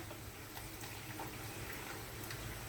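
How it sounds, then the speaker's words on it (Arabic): Water pours steadily into a jar of pickling apple olives, making a soft, continuous, faint gushing. "نكمل الميه"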